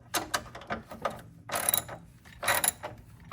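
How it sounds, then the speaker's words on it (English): A socket wrench ratchets in quick bursts of clicking while snugging a long bolt on the battery of a 2021+ GMC Yukon, Tahoe, Suburban or Escalade, close and fairly quiet with short pauses between strokes. "Starting it by hand, and then I'll tighten it up with the socket wrench."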